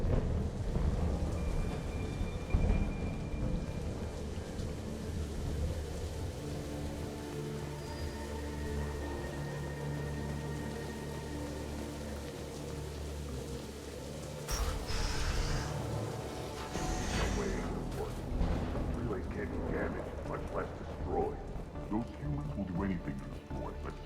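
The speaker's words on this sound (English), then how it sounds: "because now it's raining" Rain falls and thunder rumbles in Mass Effect 2 as a steady hiss under a low roll, with a louder thunder crash midway. A person talks over it.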